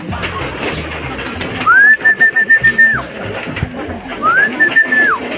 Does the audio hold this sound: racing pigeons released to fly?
yes